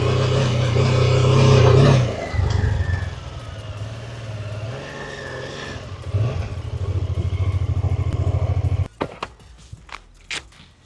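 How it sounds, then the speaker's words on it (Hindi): A BMW F 450 GS motorcycle with a 420cc parallel-twin engine and a 135-degree firing order idles and revs nearby with a mechanical, throbbing tone. Short blips rise and fall before the engine cuts out, leaving a few light clicks. "420 सीसी का पैरेलल ट्विन इंजन का एक यूनिक 135 डिग्री फायरिंग ऑर्डर है और उसका आवाज कुछ अलग सा है"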